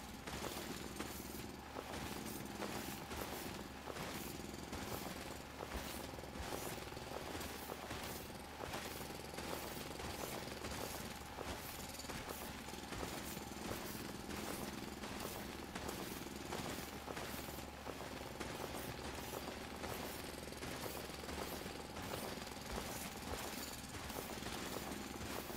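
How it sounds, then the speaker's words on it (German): An improved drill digs through ground in the factory-building game Foundry, a steady, dense mechanical grinding and rattling that runs without pause for the whole stretch, alone with no talk. "Wir haben ja den bisschen verbesserten Bohrer."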